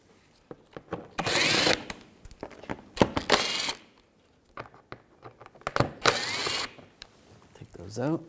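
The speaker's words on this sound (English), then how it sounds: "I'm going to use a T25 socket. Take these screws out on the sides." A power driver fitted with a T25 socket spins out undershield screws on a Volkswagen Jetta in several short, close whirring bursts, separated by clinks and handling noises.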